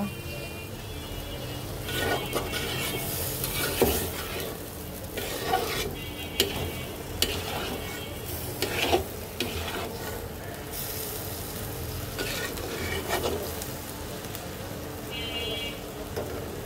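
Beans and cauliflower fry in a pan with mustard and poppy seed paste, giving a steady soft sizzle broken by repeated scraping stirs of a spatula, close and moderately loud with no talking.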